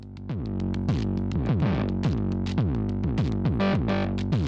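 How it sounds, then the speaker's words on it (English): A steady pattern of synthetic analog drum hits from a Pulsar-23 drum machine, each followed by a ringing, metallic spring-reverb tail from a spring reverb tank that blurs the beats together. "Analog drum synth into a spring reverb tank."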